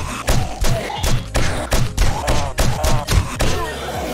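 Hunting knife striking repeatedly in the survival game 7 Days to Die, about ten heavy, evenly spaced thuds close up with no talking.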